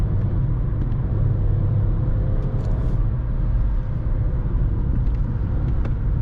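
A Skoda Fabia 3 with a 1.0 MPI 60 HP engine pulling at full throttle after a downshift, a loud steady low droning rumble heard from inside the car with little variation.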